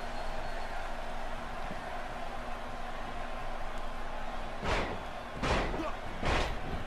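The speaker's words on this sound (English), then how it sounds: "Evan now just slamming Jack Smith's head directly into that canvas." A wrestler's head is slammed into the ring canvas at a pro wrestling show. Three heavy, booming thuds land about a second apart near the end, over a constant murmur of voices and arena ambience.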